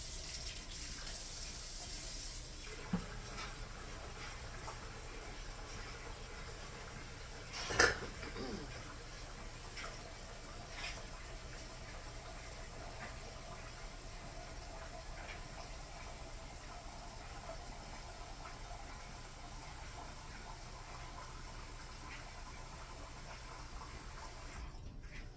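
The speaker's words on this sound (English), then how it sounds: "So now you're going to fill the rest of it up with warm water." Warm water running from a tap to fill a container for a Dawn dish soap cleaning mixture, a steady broadband rush lasting throughout, fairly quiet, with a brief clunk partway through.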